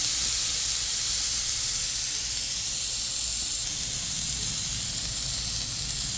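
NY strip steak sizzles steadily on a hot Blackstone griddle, a continuous close hiss that stays even throughout with no talking.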